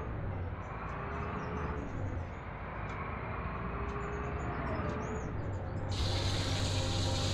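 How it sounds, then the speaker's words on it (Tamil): Steady rushing spatter of rain water hitting a private bus on the Madurai to Kambam route, continuous and close, growing brighter and hissier toward the end. "பார்த்தீங்களா மழை தண்ணியில் எப்படி அடிக்குது தண்ணி"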